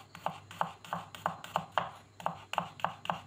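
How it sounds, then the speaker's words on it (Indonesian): Three garlic cloves coarsely sliced with a knife on a board, a quick regular run of about a dozen crisp close cuts. "3 siung bawang putih diiris kasar ya"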